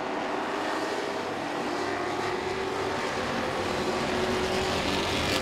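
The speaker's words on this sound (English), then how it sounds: "They race side by side down the front straightaway." Race cars at Langley Speedway, a short oval, roar steadily down the front straightaway as they run side by side, a continuous loud engine drone with no talk over it.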